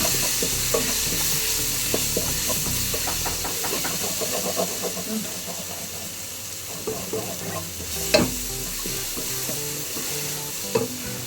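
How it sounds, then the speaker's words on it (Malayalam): Chilli flakes being stirred into tomato rice as it fries in a pan, with a steady sizzle and hiss and repeated scraping stirs running throughout, plus a sharper clatter near the end; no one talks. "ഒരു 1/2 സ്പൂൺ ചില്ലി ഫ്ലേക്സ്, നന്നായിട്ട് മിക്സ് ചെയ്യാം."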